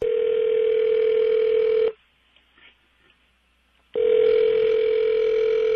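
A steady telephone dial tone plays loudly at the start of a prank phone call. It cuts out for about two seconds of near silence, then resumes at the same level.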